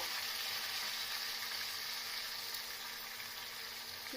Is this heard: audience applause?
no